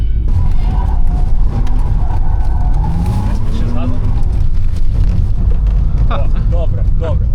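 A drift car at a drift venue spins its wheels under throttle, a loud, continuous rumbling engine and tire roar heard close up, with people talking over and beneath it throughout.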